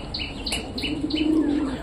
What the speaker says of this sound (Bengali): ওটা সেই নতুন পায়রাটা, মানে আমাদের সুলতানের বেবির হচ্ছে জোড়া।